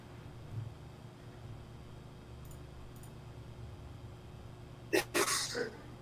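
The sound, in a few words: sneeze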